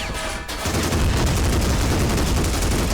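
Dense, sustained gunfire fills a battle in the Army Men of War video game, a near-continuous fusillade of rapid shots and booms with a short dip at the start, loud and with no talking.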